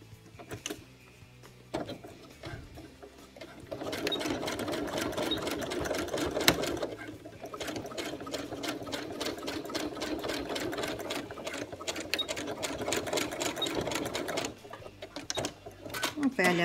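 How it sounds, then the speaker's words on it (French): A sewing machine runs a seam along a jeans zipper, its rapid needle clatter starting in short bursts, then settling into a sustained, close, mechanical rattle before stopping and restarting briefly near the end. "Maintenant, la deuxième couture parallèle."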